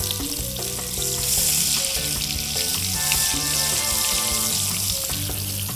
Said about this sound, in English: The butter is browning